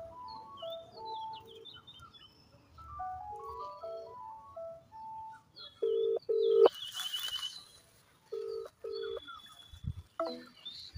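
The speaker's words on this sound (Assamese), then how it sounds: "ইয়াৰ পৰা চাউণ্ডো আহি আছে ফোনটো ৰিং হোৱাৰ" A mobile phone buried under soil rings with a repeating electronic melody of short stepped tones, muffled but clear, with brief pauses and a burst of broadband noise midway; no one speaks.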